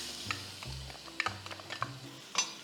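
Garlic sautéing in hot oil in a pan: a low, faint sizzle broken by soft scattered taps and scrapes of a utensil, close but quiet, with no voices.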